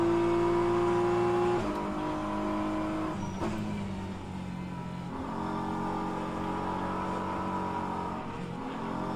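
An LMP prototype race car roars through gear changes in the rFactor 2 endurance sim at Interlagos, a loud, steady engine note with a sharp upshift and pitch drops, tone shifting as it accelerates.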